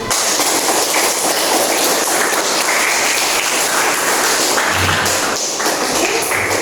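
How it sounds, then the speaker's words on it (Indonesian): Sustained classroom applause from students after a group presentation in an economics lesson, dense steady clapping filling the whole stretch with a couple of brief dips. "Kita kasih tepuk tangan."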